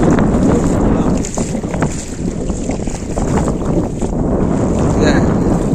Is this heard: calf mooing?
no